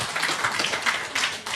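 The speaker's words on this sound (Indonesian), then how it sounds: "Sekali lagi tepuk tangan biar tambah semangat." An audience at an Islam versus Christianity debate event claps in a short burst of scattered applause, heard moderately close with no speech over it.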